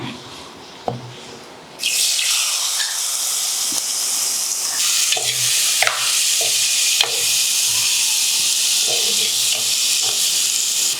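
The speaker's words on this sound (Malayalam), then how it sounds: "സവാള ഒന്ന് വഴറ്റിയെടുക്കാം" Sliced onions sautéing in a pan for a papaya curry, a loud, constant sizzle that begins abruptly after a quiet moment, with occasional scraping stirs and light knocks over it.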